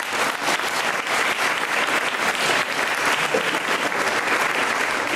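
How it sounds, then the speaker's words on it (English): An audience claps steadily at an elementary school dedication ceremony, a dense and loud wash of hands that holds at the same level for the whole stretch with no voices above it. "One more time, a round of applause for all of those."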